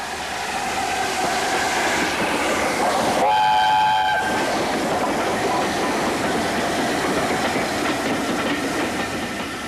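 A train rumbles into Westbury Station steadily with a continuous roar and rattle, and a loud horn blast sounds partway through.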